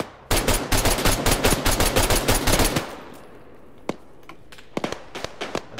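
A rapid automatic burst of gunfire in Arma 3 rattles loud and close for about three seconds, followed by a few scattered single shots after a brief pause.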